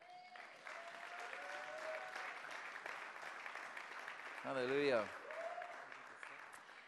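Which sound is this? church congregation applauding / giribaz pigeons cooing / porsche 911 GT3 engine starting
church congregation applauding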